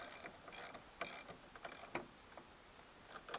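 An imperial spanner turning a bolt on an old Westwood lawn mower makes faint metallic ratcheting clicks and scrapes in short irregular bursts, close by and quiet, with no speech.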